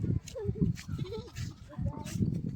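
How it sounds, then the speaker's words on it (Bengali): Goats bleat repeatedly nearby, several wavering calls overlapping with a child and others chattering throughout. "ওই যে ছাগল, এই যে ছাগলটা।"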